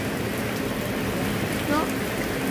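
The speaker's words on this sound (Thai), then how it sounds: "ตกอีแล้วพี่น้องฝนตกอีแล้ว" Steady rain falls continuously, a dense even hiss of drops close by with no letup across the short stretch.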